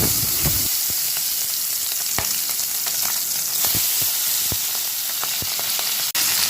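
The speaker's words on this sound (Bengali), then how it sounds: "এই যে আমার মাছগুলো ভাজি হয়ে গেছে অলমোস্ট। এখন একটু কড়া করে ভাজি করলাম।" Tangra fish frying in hot oil until crisp, a dense, steady sizzle close by with scattered sharp crackles and pops throughout, no voices.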